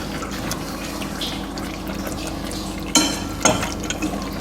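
A spoon stirs runny orange fudge mixture in a bowl of ice water, giving a soft continuous liquid swirl with two sharper clinks of the spoon against the bowl near the end.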